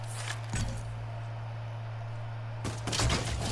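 Gunfire bursts in the Fortnite video game, a couple of short shot clusters near the start, then a denser volley toward the end, over a steady low game hum.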